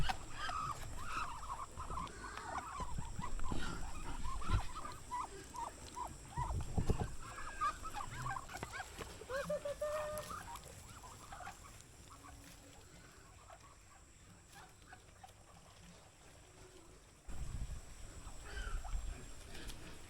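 A busy farm pen of about 500 ducks quacks and honks in a continuous, overlapping chorus, with occasional clatter and a brief quieter stretch.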